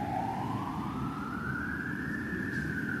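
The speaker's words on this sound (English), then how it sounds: "Oh, ambulance." An ambulance siren inside the OMSI 2 bus simulator, a single rising wail sweeping upward over a low engine drone, fairly faint and echoing, with no talking.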